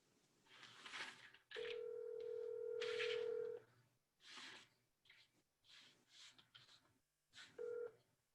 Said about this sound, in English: We got somebody's phone call in the middle of it.